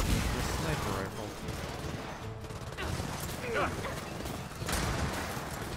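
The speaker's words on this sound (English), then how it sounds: "The fuck is this sniper rifle?" A Gears of War 4 co-op campaign firefight rumbles with gunshots and heavy combat noise, including sniper rifle fire, dense and loud throughout while players chat over it.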